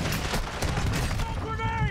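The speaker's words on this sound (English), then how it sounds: "He's shooting at me." Bursts of Warzone 2.0 gunfire crackle steadily through a busy firefight, sharp repeated shots running for two seconds with a voice talking over part of it.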